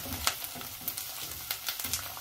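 Black beans and dhania stems being stirred in a pan: a steady low sizzle with soft scraping stirs and a few sharper clicks of a spoon against the pan, quiet and close, with no talking.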